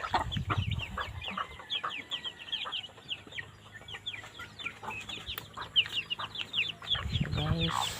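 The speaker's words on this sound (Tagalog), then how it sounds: "Dagko na ni siya nga manok guys." Big chickens clucking close by, dense overlapping chatter of clucks with rustling bursts at the start and end.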